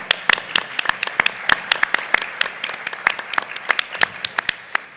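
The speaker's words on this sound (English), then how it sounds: "a round of applause, I think, for their work" Audience applause at a prison education panel: a sustained round of many hands clapping, dense and steady for the whole stretch, with no talking over it.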